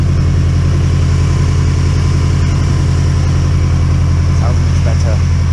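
A Subaru Impreza STI GC8 engine idles while warming up, a steady, loud, low rumble with an even pulsing throb, close by and unchanging throughout.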